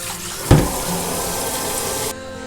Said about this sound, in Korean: 찬물로 샤워를 시켜줍니다.